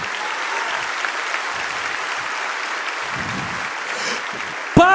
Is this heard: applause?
yes